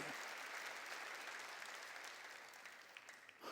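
Korean church congregation bursts into sustained applause, a thick, continuous crowd clapping that holds steady before thinning slightly near the end.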